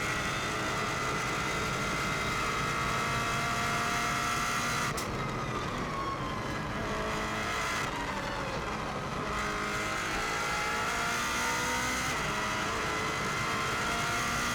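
A 2016 Subaru WRX STI rally car engine roars at full throttle on the Isle of Man TT road course, loud and sustained, with brief dips and surges as gears shift while it races along.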